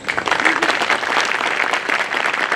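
Loud, dense clapping from a crowd of newly enrolled advocates at a Bar Council of Delhi enrolment meeting, steady and close throughout the short burst.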